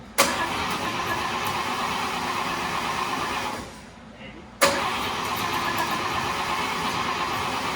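A 1954 traditional kustom car engine cranks and fires, runs roughly, cuts out for a moment, then restarts with a sharp catch and keeps running steadily, loud and close.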